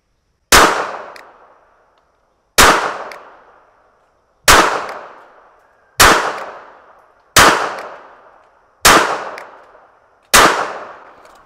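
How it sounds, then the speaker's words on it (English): A KelTec P32 pistol is fired at a target 5 yards away, seven loud, sharp shots spaced one to two seconds apart, each ringing out briefly before the next. "I'm going to shoot here at 5 yards and see what kind of group I get there"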